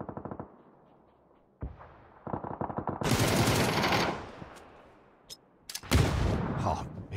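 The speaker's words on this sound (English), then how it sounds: "There goes a nade." In a video game match, bursts of rapid automatic gunfire come first, then a loud, broad grenade blast that fades out, followed by more sharp shots and another heavy burst.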